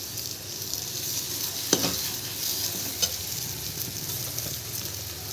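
Masala with kasuri methi frying in oil in a pan, a steady soft sizzle with a few sharp scrapes of a spoon stirring, no voices.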